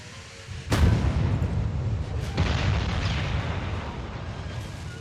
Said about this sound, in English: he is just wrecking us with those guns